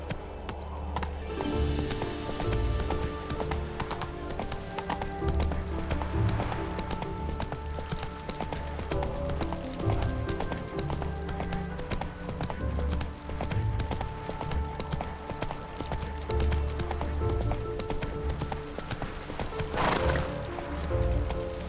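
Geralt's horse Roach gallops in The Witcher 3, a steady rhythmic clip-clop of hooves running under continuous game ambience, with a neigh rising briefly near the end.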